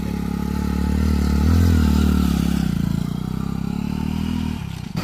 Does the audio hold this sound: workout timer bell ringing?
no